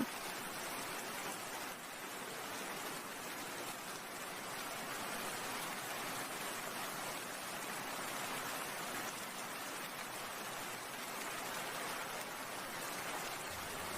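Cartoon rain pours down in a dense, steady hiss, loud and unbroken throughout with no voices over it.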